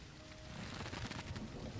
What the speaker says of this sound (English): I love that it rained